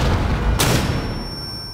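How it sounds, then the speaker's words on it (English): A flashbang grenade detonates in Rainbow Six Siege on the Consulate map: one loud, short blast that leaves a steady high-pitched ringing tone behind it, with no voices over it. "Clear flashbang."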